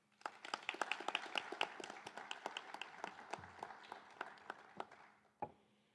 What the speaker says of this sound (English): Please join me in giving a round of applause for our donors.